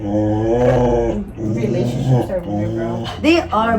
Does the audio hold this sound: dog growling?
yes